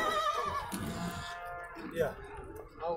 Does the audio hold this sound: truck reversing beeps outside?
no